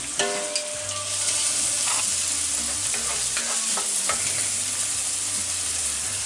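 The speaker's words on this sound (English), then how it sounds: "you want to brown your onions, get them nice and translucent, kind of like caramelize them" Onions browning in a hot frying pan for shrimp scampi give a steady, close sizzle, broken by scattered scrapes and taps of stirring throughout.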